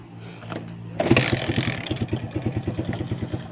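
Kawasaki KSR small motorcycle engine cranking over and catching, then settling into a steady, close, rhythmic idle with regular pulsing beats.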